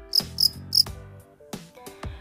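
A young fighting cricket that has molted into an adult chirps up close with no other sound: three quick bright chirps, then a few sharper, more spaced clicks.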